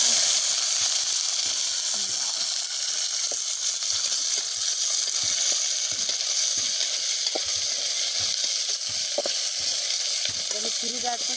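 Potato and rice mixture fries in hot oil with a constant close sizzle and scattered crackling pops, steady throughout with no talking.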